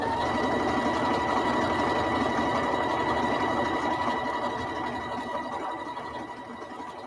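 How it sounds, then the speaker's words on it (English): Sewing machine running continuously at a steady fast pace, a dense buzzing whir that stays loud and even, easing slightly toward the end. "I'm sewing a little faster"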